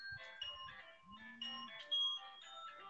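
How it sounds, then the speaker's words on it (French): A telephone rings with a melodic tune, a bright sequence of tonal notes repeating over a few seconds, fairly quiet and alone with no talk. "oui, c'est le téléphone qui sonne"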